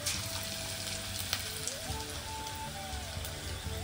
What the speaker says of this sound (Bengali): এই যে এখানে চপ ভাজছি, পেঁয়াজি সেই দোকানি স্টাইলের পেঁয়াজি